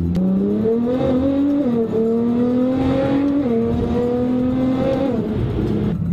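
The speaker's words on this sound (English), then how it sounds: "End result is it makes a little over 600 wheel horsepower, and it is very, very loud." A loud tuned car making over 600 wheel horsepower, fitted with a Cobb SF air intake, a custom tune and an E85 flex fuel kit, holds a deep droning engine note that rises and dips slightly in pitch, steady and close.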